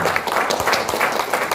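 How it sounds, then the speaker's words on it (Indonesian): An audience at a political education gathering breaks into brisk applause, a dense, steady patter of many hands clapping at moderate volume with no pauses. "beri tepuk tangan dulu untuk."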